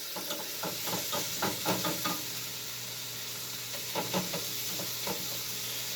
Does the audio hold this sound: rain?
no